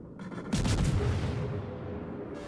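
Guns on a Tier-8 British destroyer, the Lightning, firing in the naval game World of Warships, a burst of heavy booms in quick succession over a steady background rumble of the ship.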